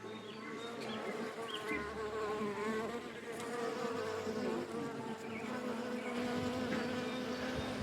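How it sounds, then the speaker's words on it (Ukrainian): Steady bees buzzing close by, a continuous droning hum with layered wingbeat tones, no voices. "тут бджілки літають"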